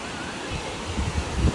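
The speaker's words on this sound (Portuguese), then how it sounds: "tem uma ventania, a maré tá aqui em cima" Strong wind buffeting the microphone by the sea at high tide, a continuous roaring wash with low gusty surges, loud and close.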